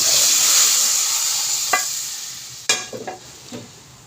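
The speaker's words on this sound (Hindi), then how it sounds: "तड़का लगाएंगे" Tadka tempering poured onto cooked moong and masoor daal, a steady bright sizzle and frying hiss that slowly fades, with a few sharp crackles and pops near the end.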